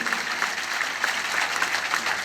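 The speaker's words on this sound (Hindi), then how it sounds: "ताली बहुत कमजोर है।" Audience applause at a Hindi poetry gathering, a steady wash of scattered clapping from a crowd, moderately loud and continuous throughout with no clear talk over it.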